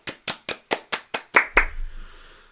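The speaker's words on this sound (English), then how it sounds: "Give you a little round of applause for the new mod." A single person claps hands several times in an even rhythm during a casual live stream, sharp close claps with the last two louder, followed by a faint rumble as it fades.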